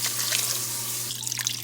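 Water pours steadily from a can into an Instant Pot of chili, a continuous close splashing stream with a constant low hum underneath.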